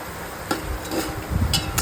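Onions frying in oil with a pinch of salt for Hyderabadi biryani, stirred in the pan: a soft, low sizzle with a few light scraping and clinking strokes, brief and fairly quiet.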